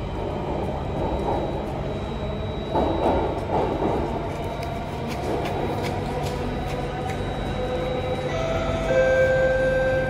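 A metro train runs between stations with a loud, steady rumble and rail roar inside the carriage, plus faint tonal whines and a brief rise near the end.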